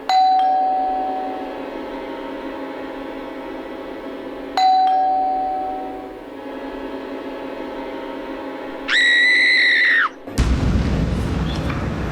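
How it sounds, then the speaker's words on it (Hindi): Two electronic doorbell chimes ring indoors, each a sharp tone with a lingering decay, followed by a brighter buzzing tone and then a sudden loud burst of noise. "तभी दरवाजे पर घंटी बजी।"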